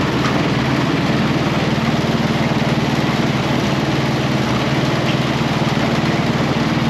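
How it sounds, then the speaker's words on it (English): A Spimerica Palazanni TZX 730 tracked spider lift sits at low idle, its small engine giving a steady, even drone with a fine rapid pulse that stays close and constant throughout. "Engine low idle, track speed low."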